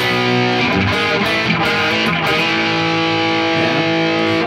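Slow run-through of the riff on a distorted electric guitar, a steady, loud, sustained wall of overdriven notes and chords with slides, played alone.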